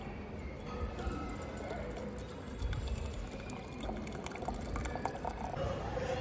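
Hot water pours steadily from a dispenser into a container at a college hostel for making coffee, a continuous rushing fill heard close up amid background noise, with talking at points.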